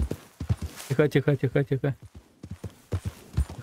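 A horse's hooves clip-clop in a quick regular run of about eight steps in the video game Red Dead Redemption 2, with someone speaking softly before and after.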